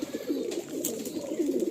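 Teddy Kasuri pigeons in a loft giving soft, low throaty coos, close and continuous over a quiet background.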